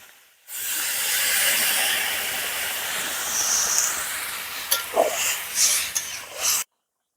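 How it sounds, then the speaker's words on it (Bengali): Water comes to a boil in a pot of cauliflower and potato curry for a rohu fish dish, a strong continuous steamy hiss with sharper bubbling pops near the end before it cuts off. "জলটা অকবাক করে ফুটছে"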